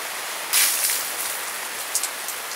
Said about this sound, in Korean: 이렇게 계속 비가 오면.